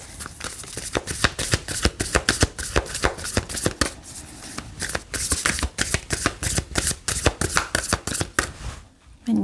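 Tarot cards being shuffled in rapid, continuous riffling bursts throughout, close and loud, before a card is drawn.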